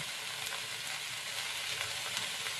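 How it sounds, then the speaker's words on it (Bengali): Fish air bladders frying in oil with eggplant and other vegetables give a dense, continuous close sizzle, even and unbroken throughout, with no voices. "এই পটকাটা একটুখানি শক্ত থাকে তো ওই জন্য একটু এর সাথে"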